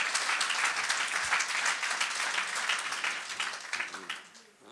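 A church congregation at a worship service breaks into loud, dense applause that runs continuously and fades slightly at the end, with raised voices mixed in.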